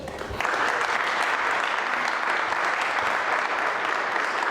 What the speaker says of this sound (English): a great round of applause, please